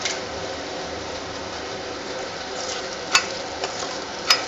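Cumin and mustard seeds are tempered in hot oil for an egg and gongura curry, and they crackle and sizzle steadily at close range. A few sharp ticks and taps stand out near the end.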